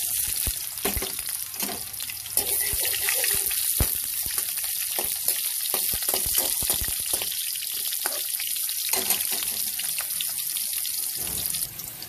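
Garlic and onion hit hot oil in a frying pan for pork ribs, giving a steady broad sizzle with scattered crackles and pops throughout, close and fairly loud, no voices.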